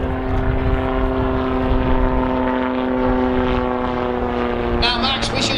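A Catalina autogyro flying at the Scottish Airshow, a steady loud droning engine and rotor with a strong sustained hum, close overhead, while a voice talks over it.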